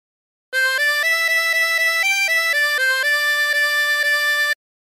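A harmonica plays a short stepwise melody from "She'll Be Coming Round the Mountain" in clean sustained notes, a few pitches slurring or bending, close and clear with no talking.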